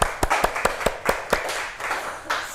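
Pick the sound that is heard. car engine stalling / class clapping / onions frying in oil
class clapping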